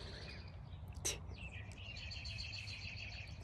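Faint, scattered chirps from birds outdoors, with a sharper tweet near the start and a light warble after it, set against a soft, low background hum.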